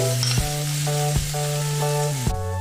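Grated paneer frying in a hot pan gives a continuous bright sizzle, heard close under background music with a steady melodic tone and no speech.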